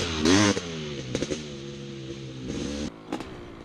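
A two-stroke dirt bike engine revs during a wheelie, with several short sharp throttle blips rising in pitch between a steady buzzing idle, close and loud.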